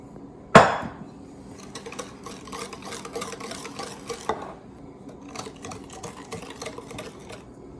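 A spoon works cocoa powder and flour into brownie batter in a bowl, a sharp knock against the rim followed by soft, repeated scraping and stirring strokes, close and fairly quiet.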